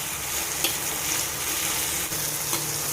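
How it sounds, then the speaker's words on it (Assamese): Vegetables fry in peanut oil with a dense, constant sizzle and a few soft pops and stirring clinks, close and steady throughout with no talking. "ভেজিটেবলছখিনি দি দিলোঁ অলপমান ফ্ৰাই কৰিব লাগিব"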